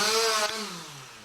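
A chainsaw revving while men cut storm-felled trees on a street, a loud buzzing whine that drops in pitch as the engine slows, heard alone and close.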